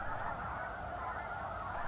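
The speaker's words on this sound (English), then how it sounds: "Pretty much every pond I passed had birds on it, swans, or snow geese" A flock of snow geese honking continuously, a steady overlapping chorus of calls from birds at a moderate distance.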